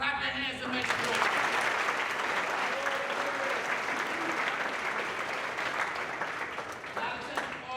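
An audience of young people at a university college-bound scholars youth town hall applauds, with clapping and crowd noise carrying on steadily for several seconds at an even, fairly strong level.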